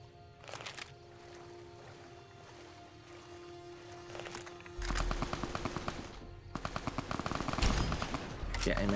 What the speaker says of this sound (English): Oh, I love my Gauss rifle.